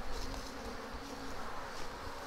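A large swarm of honeybees gathered at a swarm trap box, giving a soft, steady buzzing hum heard close up without other sounds.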